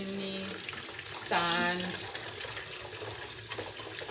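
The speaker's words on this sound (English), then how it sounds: "Maybe I'll just run some cold water through it if there's any" Cold tap water runs steadily over omena fish being rinsed in a Kenyan kitchen, a continuous close hiss and splash beneath someone speaking.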